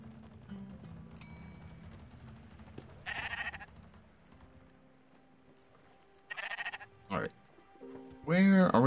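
Sheep in the video game Spiritfarer give a few short bleats over quiet background music, with a louder animal cry at the very end.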